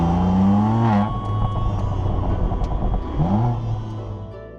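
A BMW M2 Competition with MHD Tuning revs and accelerates nearby, engine note climbing through gears in a loud sweep, dipping briefly, then pulling up again before settling.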